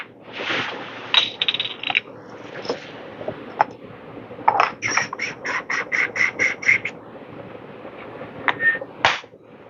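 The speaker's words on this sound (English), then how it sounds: "let's dose about 19 grams and see how long it takes to grind the coffee for espresso" Kinu manual hand grinder grinding a 19-gram dose of coffee beans for espresso, giving close, rhythmic crunching and rasping strokes in repeated bursts with brief pauses.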